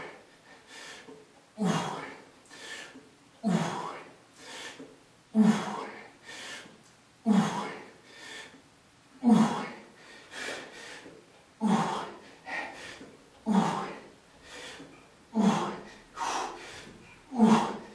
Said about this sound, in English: Breathe as you lift. Exhale.